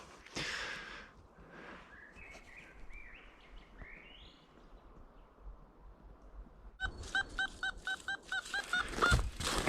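A rapid series of short, high electronic beeps from a metal detector sounds close by, rising in loudness toward the end, after quieter rustling and faint goose honks.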